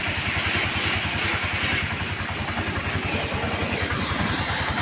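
A CNG auto rickshaw with a BS6 sensor engine idles steadily after a self start, its low, even pulsing thrum close and continuous with no speech over it.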